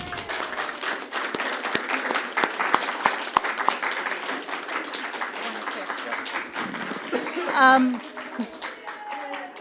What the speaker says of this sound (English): how about one more round of applause for everyone here?